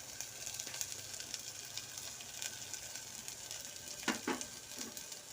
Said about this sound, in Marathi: पुन्हा आपण हे पूर्णपणे भाजून घेऊ